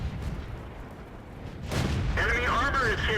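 A tank cannon fires once in World of Tanks from the player's T28, a sudden heavy boom about halfway through that leaves a loud rumbling tail over continuous battle noise, with voices audible in the second half.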